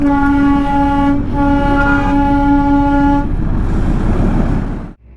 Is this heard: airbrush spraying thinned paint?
no